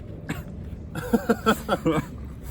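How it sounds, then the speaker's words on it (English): Someone gives a few short coughs and throat-clearing bursts up close, rapid and choppy, lasting about a second. "That little cough said it all, I think."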